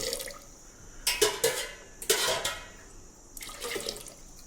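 Water is poured into a pot of soaked dal in three splashing bursts, with brief pauses between them.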